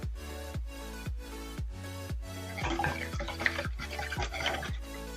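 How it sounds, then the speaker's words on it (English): Milk, oil and sugar are whisked together in a bowl. Regular rhythmic strokes come first, then give way to a looser, wetter clatter, close and moderately loud. "I whisked my wet ingredients until all the sugar has dissolved"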